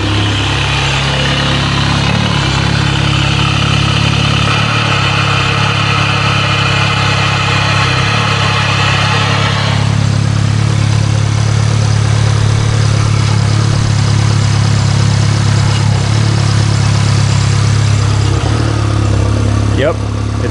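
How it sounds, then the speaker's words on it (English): A VW MK7 GTI idles with a misfire after running on E85, its exhaust a steady low drone that wavers in tone early on before settling, close and continuous, with a voice talking over it. "Yep, it sounds like it's still misfiring."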